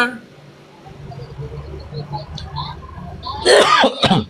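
A throat-clearing cough bursts out loud and close near the end, preceded by quiet background murmur and faint talk.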